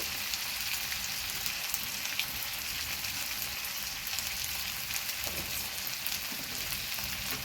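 Chicken frying with spices for desi murgi kosha gives a steady, moderately faint sizzle and crackle that keeps going without a break, like light rain.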